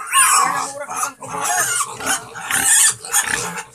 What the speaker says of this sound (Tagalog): Maganda ng baboy, ah.